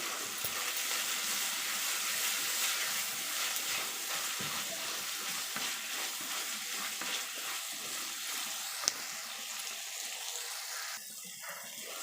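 Steady sizzling as tomatoes sauté in a pan for Chettinad fish curry, a continuous crackling hiss with a soft stir near the end, no talking.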